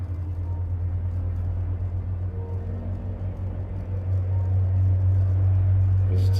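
A truck rolls past near a truck stop, a deep steady engine rumble that swells louder toward the end, heard at some distance.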